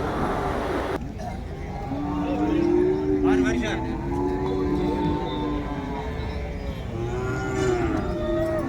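Cattle, including Jersey calves and Kangayam cows, moo repeatedly at a busy cattle market, several long, drawn-out calls close by, while someone talks over them.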